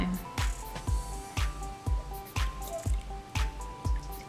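Cold water poured a little at a time onto a frozen toy penguin, a close run of regular dripping splats and squishy plops, about two per second.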